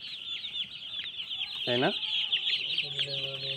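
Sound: broiler chickens clucking in poultry farm

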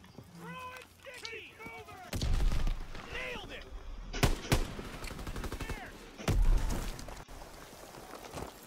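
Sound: gunshots in video game Call of Duty: World War II

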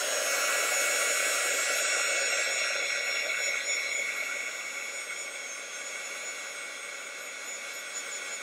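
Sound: hair dryer drying watercolor painting

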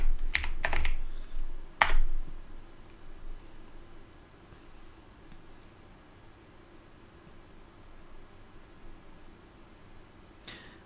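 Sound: typing on a computer keyboard

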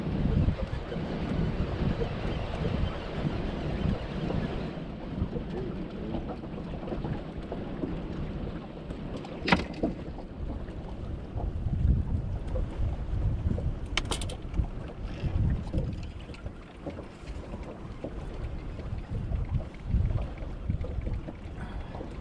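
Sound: wind

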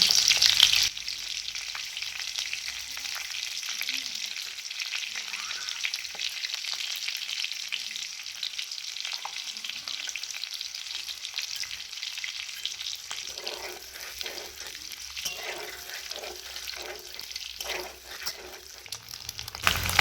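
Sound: eggs frying in oil

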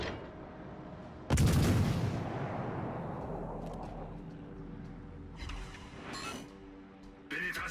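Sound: warship gunfire in World of Warships Legends video game

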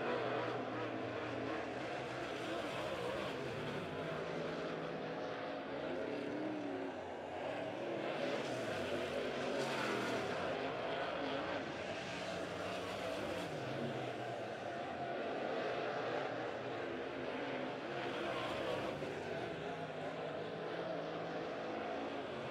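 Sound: race cars lapping at Midway Speedway

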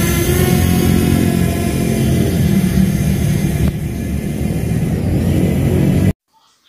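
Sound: FIMI X8 Mini drone taking off and climbing

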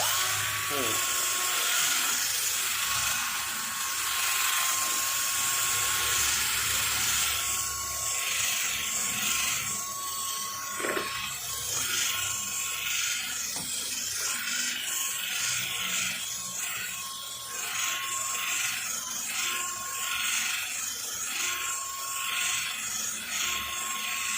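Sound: electric drill polishing car paint

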